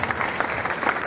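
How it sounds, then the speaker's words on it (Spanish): Brief applause from an audience at the official launch of Holy Week events in Ayacucho, a dense patter of clapping, fairly loud and close, with no speech over it. "Voto de aplauso."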